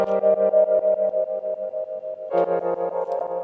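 A sustained synth-like tone pulses rhythmically through an effect, its choppy envelope throbbing at a steady rate, then shifting pitch and texture partway through.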